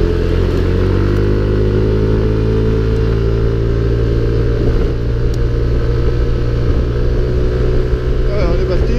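A Yamaha Tricity 125 three-wheeled city scooter being ridden, its engine a loud, continuous droning hum with wind noise, while someone talks over it.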